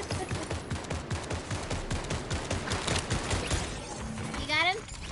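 Rapid bursts of automatic gunfire rattle through a Fortnite match, dense and repeated, while players talk over the shooting.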